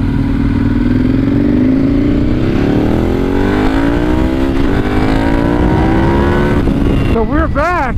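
An EBR 1190RX sport motorcycle rides at speed with a loud, close engine drone rising steadily in pitch as it accelerates, heavy wind roar underneath, then a burst of rapid revving near the end.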